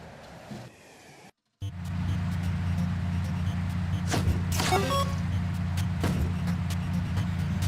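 A car pulling away in the video game Sam & Max Beyond Time and Space: after a brief silent gap, a steady engine drone rises and holds, with a few short mechanical clicks and whooshes over the hum.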